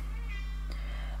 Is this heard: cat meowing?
yes